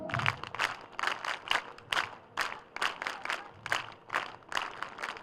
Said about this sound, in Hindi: वीर ताली।